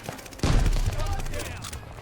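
Rapid gunfire bursts from the video game Call of Duty Vanguard, loud and close, with someone talking over the shots.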